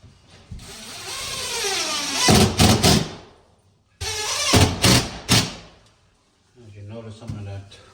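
A screw gun drives drywall screws into a drywall patch in short whirring bursts, some close together, while someone talks over and between them.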